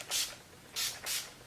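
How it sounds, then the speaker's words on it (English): Skindinavia bridal makeup finishing setting spray hisses from its pump bottle in three short bursts, one single puff and then a quick pair, close and fairly loud. "This is the Skindinavia Makeup Finishing Spray, the bridal one."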